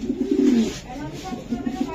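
Racing pigeons coo nearby in soft, low, throaty rolls, one drawn-out coo followed by a few shorter repeated ones.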